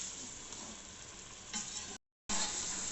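Koftas frying in a pot for chicken moti pulao give off a soft, steady sizzle while a spoon stirs through them, quiet and close, with a brief cut to silence near the end.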